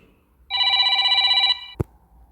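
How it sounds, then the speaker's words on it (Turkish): A single telephone ring, one steady electronic tone of about a second, then a sharp click, heard alone in a quiet room. "yine bir telefon geldi"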